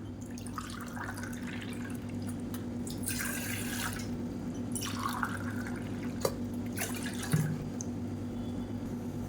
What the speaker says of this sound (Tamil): இதில் வந்து ஒரு இரநூறு எம்எல் அளவுக்கு தண்ணி சேர்த்துக்கலாம்